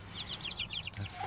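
Spring-hatched chicks on a farm homestead give a rapid run of high, thin peeping calls, about a dozen close chirps in quick succession with low rumbling background noise.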